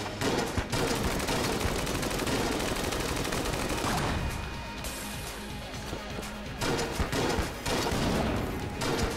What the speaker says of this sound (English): We'll bring out our shotgun.